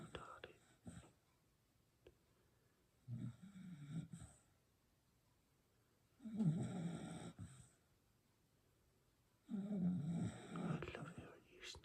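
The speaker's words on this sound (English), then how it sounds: "I love hearing you snoring." A dog snores in three or four slow, soft rasping bursts spaced a few seconds apart, close and quiet, with a faint hushed voice nearby.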